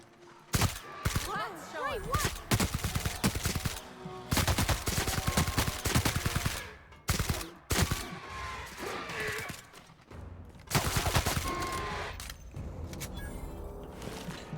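Spacer's Choice rifle fire in the sci-fi shooter The Outer Worlds, repeated loud rapid bursts of gunshots separated by short gaps, with someone talking faintly between volleys.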